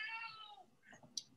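A house cat gives one short, clear meow near the microphone, followed by faint murmuring and a sharp click.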